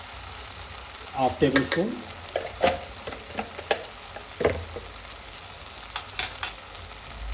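Masala for a mutton keema balls curry fries in a pan with coriander powder, a steady close sizzle punctuated by irregular stirring scrapes and knocks, with a brief voice speaking near the start.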